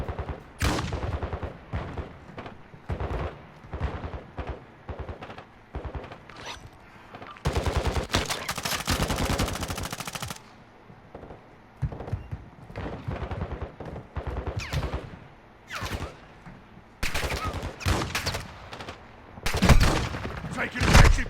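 Gunfire in the Call of Duty video game crackles in rapid bursts and longer sustained volleys, loud and close, with occasional heavier booms, broken by short gaps.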